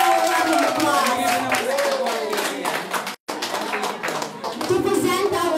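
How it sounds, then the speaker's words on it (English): An audience at a school pageant claps and cheers for a newly crowned winner: continuous close clapping mixed with excited voices and shouts, with a brief dropout midway. "Let's give her a round of applause."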